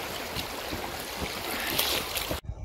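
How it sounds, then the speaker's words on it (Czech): River water splashes and rushes around a canoe being paddled on the Morava in spring. The wash is continuous, close and fairly loud, then cuts off abruptly near the end. "Jak to pěkně šplouchá."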